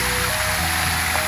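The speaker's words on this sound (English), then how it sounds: "Touch the water spraying" Water spraying at Lake George makes a dense, steady hiss and rush, close and continuous with no voices.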